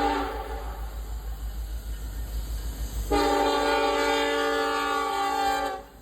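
Freight train rumbling past on Conrail-heritage tracks in Northeast Ohio, its steady low rolling roar joined halfway through by a loud, sustained multi-tone horn blast that holds for several seconds before cutting off.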